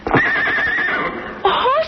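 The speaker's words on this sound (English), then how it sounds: "You got horses hidden back in the woods." Horses whinnying from woods in an old-time radio drama, a long high neigh followed by a second shorter whinny, close and clear with faint hoof clops.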